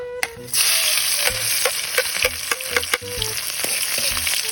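Onion, garlic and ginger sauté in a hot pan, a steady close sizzle with repeated sharp scraping strokes of a spatula against the metal.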